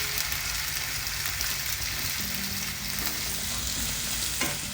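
Curry leaves frying in hot oil give a steady, loud sizzle and crackle throughout, close up, with light stirring and no talk.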